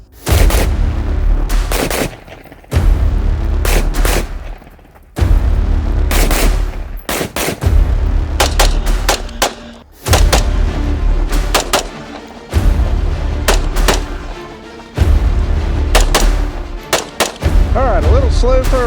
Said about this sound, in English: a little slow for our first shots of the day